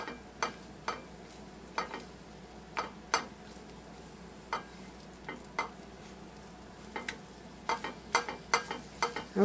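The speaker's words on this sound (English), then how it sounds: "When you're scrambling eggs, just kind of scoot them" Eggs being scrambled in a frying pan: a soft sizzle beneath repeated sharp scrapes and taps of a utensil on the pan, irregular and close, quickening toward the end.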